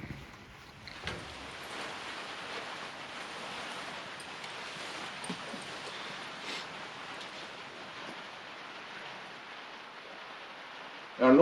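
Steady rain falls on a backpacking hiking shelter, a continuous even hiss of drops that holds unchanged throughout at moderate level, with a sudden louder noise right at the end.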